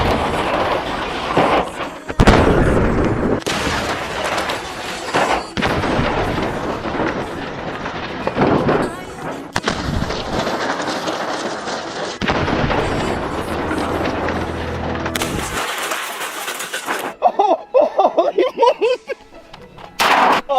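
A hand grenade explodes inside a vending machine, heard as several harsh, loud, booming bursts with crackling debris and clatter, followed by sharp broken rattling near the end.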